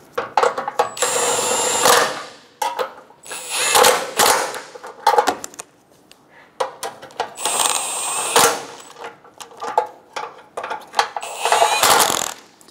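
Power tool driving and tightening front bumper bolts on a 2012-2016 Subaru Impreza, several loud whirring bursts of a few seconds each with short pauses between, close up and without talk.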